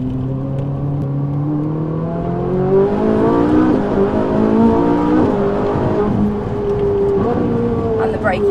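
Ferrari 458 Italia engine pulling on a race track: a loud, continuous in-car engine note rises and falls through revs and shifts, with a voice talking faintly beneath it.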